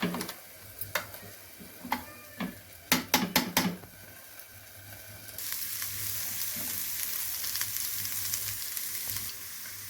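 Amla and turmeric pachadi ingredients in hot oil: a few sharp utensil taps and clinks come first, then a loud, dense sizzle of frying takes over and holds steady, with no talking.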